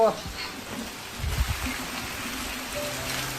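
Heavy monsoon rain pours down in a steady, close hiss, with a low rumble underneath and a voice speaking over it.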